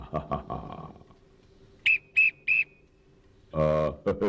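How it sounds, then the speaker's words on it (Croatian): Three short, shrill police whistle blasts sound in quick succession, with brief bits of voice before and after. "samo 3 zvižduka iz ove pištaljke će poplašiti svakoga bez greške"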